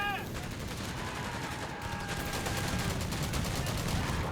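Machine gun fire crackles steadily through a Company of Heroes 3 battle, dense and continuous over battlefield noise with occasional voice chatter from units.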